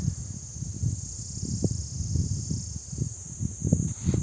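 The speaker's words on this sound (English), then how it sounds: "All you can hear is the crickets." Crickets on a quiet hilltop eco park at Dhanaulti in Uttarakhand keep up a steady high-pitched trill. Soft low rustles and thumps sound nearby underneath it.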